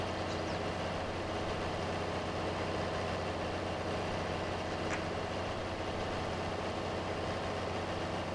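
A tractor in Farming Simulator 22 idles with a constant low, droning rumble that stays steady and loud the whole time, with no talking.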